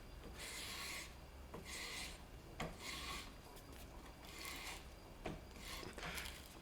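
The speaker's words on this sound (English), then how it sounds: "I'm ready to start cutting the thread on this side as well" A hand tap cuts a thread in metal, making repeated raspy grinding strokes in a steady back-and-forth rhythm with small clicks between turns, close and fairly quiet.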